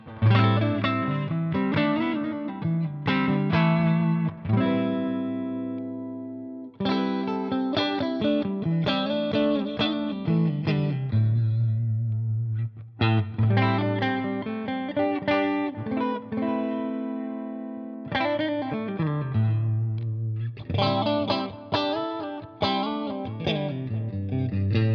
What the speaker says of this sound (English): We're going to go to a clean sound, and I'll give you a quick tour of the five positions.